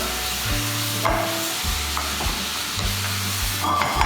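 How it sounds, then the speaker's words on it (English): Polenta porcini ingredients sizzle steadily in a hot pan while a utensil scrapes and stirs, with intermittent low knocks against the pan; no talking. "You can hear it sizzling away, that's what you need."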